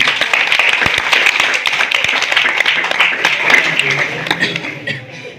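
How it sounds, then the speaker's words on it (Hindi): Loud clapping from a school class at a farewell gathering, many sharp close hand claps in a dense, rapid patter that continues steadily before thinning out toward the end. "सर के लिए जोरदार ताली।"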